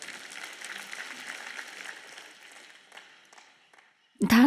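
An audience applauds during a sermon, with steady scattered clapping that slowly fades away before a voice breaks in at the very end.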